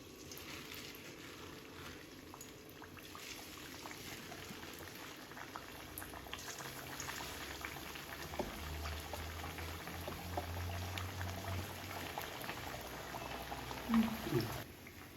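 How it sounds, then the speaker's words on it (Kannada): Maddur vada frying in hot oil in a pan, a continuous bubbling sizzle that stays steady throughout with no voices. "ಇದನ್ನು ಎಣ್ಣೆ ಕಾದಿದೆ, ಈಗ ಬಾಣಲಿಗೆ ಹಾಕೋಣ"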